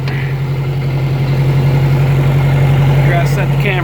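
A 2010 John Deere tractor engine running steadily with its power takeoff engaged, a loud, constant low droning hum with a mechanical whir on top and no break.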